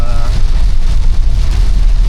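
Heavy rain pours during a typhoon over flooded rice fields, a loud, dense hiss with deep rumbling wind noise on the microphone, steady and unbroken, and a brief voice at the very start.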